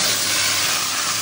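Lemon-and-salt marinated chicken hitting a pan of fried onions: a dense, steady hissing sizzle that holds evenly for the whole moment, with no talking.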